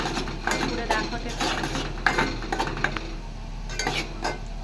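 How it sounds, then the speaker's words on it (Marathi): Masala being sautéed in oil in a pan, with repeated clinks and scrapes of a utensil against the pan over a low steady hum, close and moderate, while a voice talks faintly in the background. "मसाला चांगला तेल सुटेपर्यंत परतून घ्यायचा."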